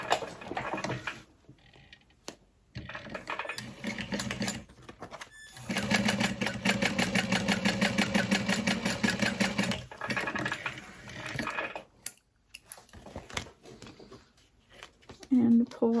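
A sewing machine stitches a fabric wallet in rapid, rhythmic runs that start and stop several times, with a voice talking in the gaps.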